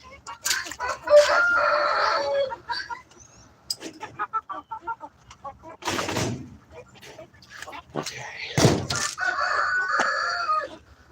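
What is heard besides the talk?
chickens clucking and crowing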